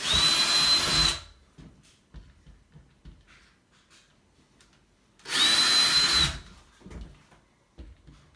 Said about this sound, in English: I'm going to drill them now with my 1/4-inch bit.